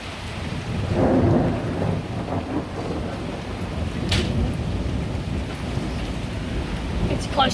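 Heavy thunderstorm with loud rolling thunder that swells early and rumbles on beneath steady pouring rain and some wind, the storm sounding close and continuous throughout.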